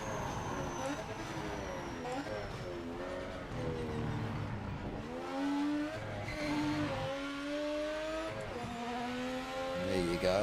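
A race car engine in the video game Project Motor Racing revs up and down through gear changes, its pitch climbing and dropping repeatedly under steady throttle, loud and continuous throughout.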